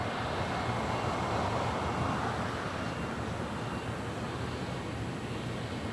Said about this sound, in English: 737-800 now rolling down